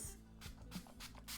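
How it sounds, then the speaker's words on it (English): Cucumber setting spray from an inexpensive Dollar General pump bottle, misted in about four short, close hissing spritzes spaced roughly a third of a second apart, with no talking. "I'm going to do this cucumber setting spray."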